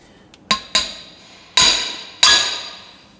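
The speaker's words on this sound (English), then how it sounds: "drop a large socket down in there so it sits on the bearing like so, and you can tap it out" A hammer strikes a large socket to tap out a wheel bearing on a fifth-wheel trailer, four sharp metallic blows, close and ringing, the last two louder, with no talking.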